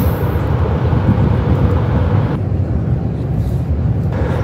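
Steady loud rumble and rushing hum inside the Haramain high-speed bullet train running from Madinah toward Jeddah and Mecca, continuous with no voices.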